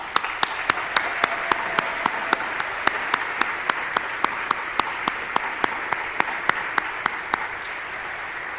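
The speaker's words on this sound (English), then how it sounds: "please stand up and receive a round of applause for your outstanding presentations" Applause from an audience of attendees at a scientific society conference runs steadily for about eight seconds, and a sharp single clap or tap stands out over it in a very regular beat.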